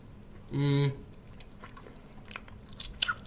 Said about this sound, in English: Chewing into the microphone.